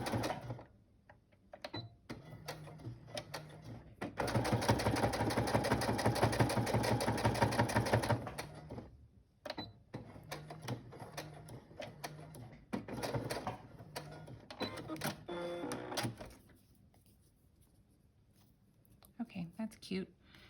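A sewing machine stitches through rickrack trim in short bursts, with one sustained run of rapid stitching in the middle, heard close up with brief speech between runs.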